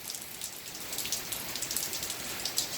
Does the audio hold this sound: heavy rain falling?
yes